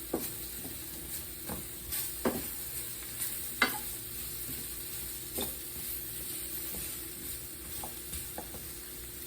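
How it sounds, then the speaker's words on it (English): Soft, steady sizzling of mushrooms frying in a pan, with occasional scraping clicks from stirring, fairly quiet and close. "These bad boys frying up. Now those mushrooms getting cooked really nice."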